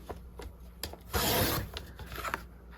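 A dull paper trimmer cuts through watercolor card with scraping, rasping strokes, a longer swell of cutting in the middle, close and quiet.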